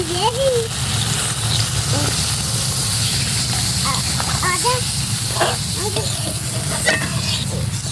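Spiced new potatoes, cooked with duck eggs, keep up a continuous hissing sizzle in the pan as water goes in, with a person talking over the sound throughout.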